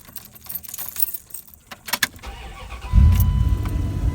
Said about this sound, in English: Let me go and turn the truck on for you.